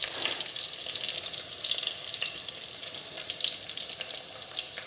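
Shallots frying in a pan at the start of a Kerala-style mango fish curry, giving a steady, close, bright sizzle with light crackle that holds evenly throughout, no voices.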